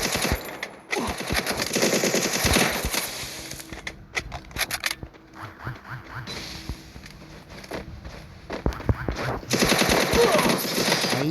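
Automatic weapon fire in a video game comes in rapid, loud bursts that start and stop several times across the stretch, with sparser single cracks and quieter gaps between volleys, with some talk in the background.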